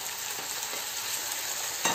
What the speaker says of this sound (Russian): И теперь самое время отправить к лучку наши грибочки.